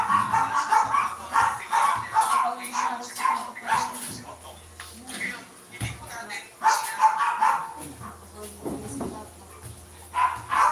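Dogs bark and yip repeatedly near a household during a typhoon in Bicol, sharp bursts mixed with whimpers under ongoing conversation.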